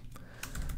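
A short burst of typing on a computer keyboard, a few quick soft key clicks close by, with no talking.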